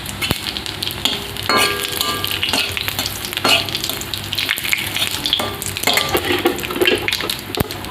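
Whole dry red chillies, cumin seeds and bay leaves sizzle steadily in hot oil, a dense close crackle with occasional sharper pops and spoon scrapes against the pan, no voices.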